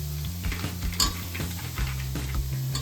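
Crab pieces dropped into a pan of masala paste frying Malvani-style, with clattering spoon and pan knocks over a low sizzle.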